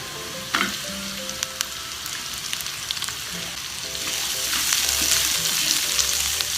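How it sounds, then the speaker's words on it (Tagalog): Onion sautés in a pan for Ilocano-style igado, giving a continuous crackling sizzle that grows slightly louder toward the end, with occasional soft stirring noises. "So, gigisa lang natin to hanggang sa mag-translucent na yung ating onion."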